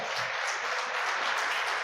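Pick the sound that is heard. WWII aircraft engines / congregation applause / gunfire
congregation applause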